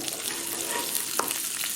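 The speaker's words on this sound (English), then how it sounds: "You see bubbling, some sizzling sound." Red curry paste frying in a pan, a loud continuous close sizzle and crackle with a brief stirring scrape partway through, no talking.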